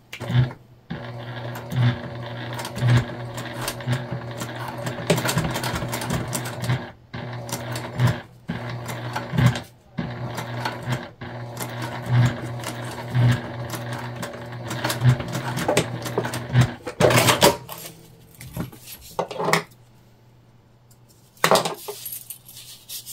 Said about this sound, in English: We're gonna sew them top stitch 1/8 of an inch.